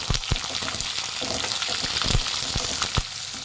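Onions and curry leaves fry in hot oil for a mango chitranna, a steady close sizzle with occasional sharper pops and stirring clinks, no talking.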